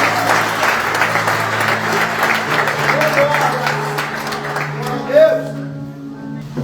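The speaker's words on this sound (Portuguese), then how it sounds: "A igreja aplauda Jesus." A church congregation at an anniversary service applauds Jesus with sustained, loud, dense clapping. A speaking voice and tonal music carry on beneath it.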